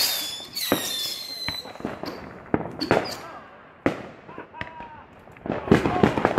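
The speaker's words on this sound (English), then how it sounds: "There's like 30 bottle rockets tied together. And he's lighting them from the bottom up." A bundle of about 30 bottle rockets tied together and lit from the bottom up goes off in a rapid string of sharp bangs, pops and whistling streaks, loud and close, with voices talking and shouting between the blasts.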